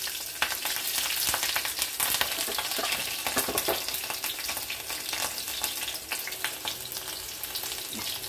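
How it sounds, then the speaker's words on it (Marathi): Garlic, cumin and mustard seeds fry hard in hot oil in a kadhai, a dense, steady crackling sizzle with sharp pops and spatters throughout, close and loud with no talking. "कढईत टाकला लसण, जिरा मोहरी"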